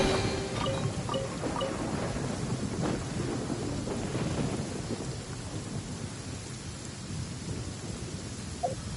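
Storm in the video game Genshin Impact: steady rain and low rolling thunder under gusts of wind, a continuous, fairly quiet wash with no voices.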